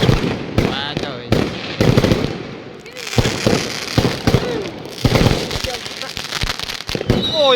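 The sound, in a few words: fireworks on New Year's Eve in China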